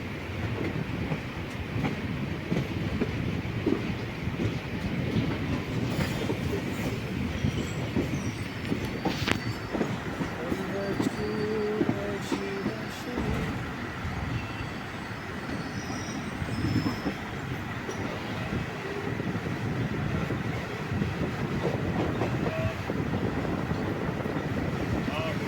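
Sabari Express rolls along the rails near Kottayam in a steady, moderately loud rumble with intermittent clicks and wheel squeals throughout the long run, heard from inside the coach.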